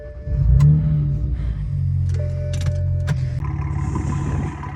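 BMW with an N54 twin-turbo engine pulls away on a drive, its engine note rising then settling into a steady hum with some creaks and clunks, fairly close, no talk.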